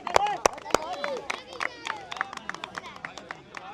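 A village crowd at a blindfolded pot-breaking game claps for an old man: a few sharp, close claps up front, then scattered claps among lively talking voices.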